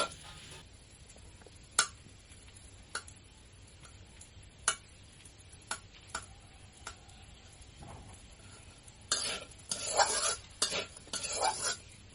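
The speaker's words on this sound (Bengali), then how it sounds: "ভাজিটা কিন্তু ঘন ঘন নাড়াচাড়া করতে হবে খুন্তির সাহায্যে" A spatula stirs a spiny gourd stir-fry in a little oil. Sparse single clicks and taps come first, then a denser stretch of scraping near the end. The sound is quiet and close, with no talking.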